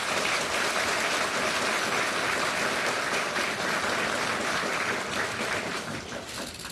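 Sustained applause from an audience at a justice minister's inauguration ceremony, dense and steady throughout before easing slightly near the end, with no talk over it.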